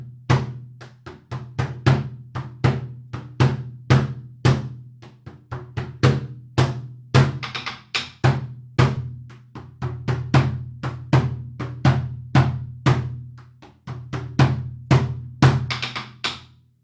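Drumsticks make a rapid run of sharp, clicky edge shots on a drum rim, in quick rhythmic bursts over a steady low drum tone, played close and loud without any talking, part of a hand-drum taster lesson.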